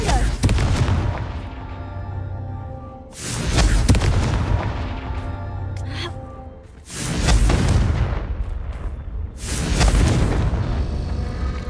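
Repeated booming blasts of the Confringo explosive spell in the Hogwarts video game, four heavy rumbling bursts spaced a few seconds apart, each loud and swelling before fading into a lingering roar.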